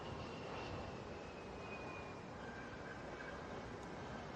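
Airbus A320 airliner on arrival from O'Hare into Atlanta, a steady broad roar of jet engines that holds at a constant, fairly distant level throughout, with no talking.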